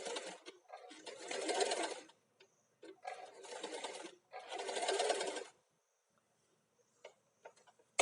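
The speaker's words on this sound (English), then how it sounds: "this is the center back seam that I'm sewing right here" Sewing machine stitching the center back seam of an A-line dress, running in three steady bursts of about a second or more each with short pauses between, close and moderately loud, followed by a few faint clicks.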